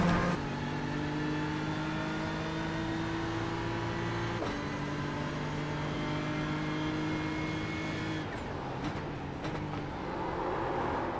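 A Porsche race car in a sim racing game at Watkins Glen howls with a steady, high engine tone. Two sharp shifts briefly break the whine before it settles again, with faint tire and track noise near the end.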